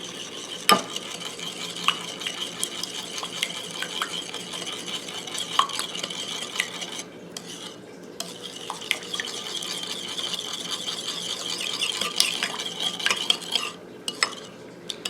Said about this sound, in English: Now I'm going to go ahead and stir this up.